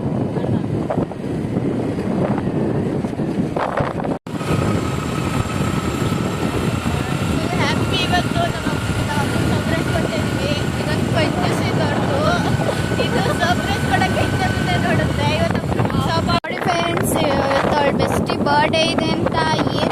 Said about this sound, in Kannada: ಬರ್ಡೇ ಇದೆ ಅಂತ ಏನು ಸ್ಪೀಡಾಗಿ ಗಾಡಿ ಓಡಿಸ್ತಾರೆ